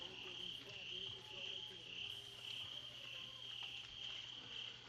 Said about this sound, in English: I'm gonna put the mic on mute so y'all don't hear all the crickets and shit and frogs and shit